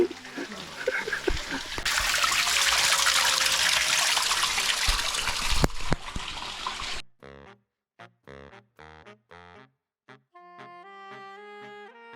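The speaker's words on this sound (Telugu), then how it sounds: "పెద్ద జలపాతం" A loud, steady rush of falling water fills the first seven seconds, then gives way to sparse tonal music.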